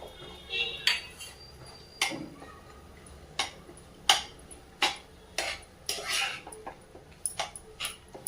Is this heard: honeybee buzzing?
no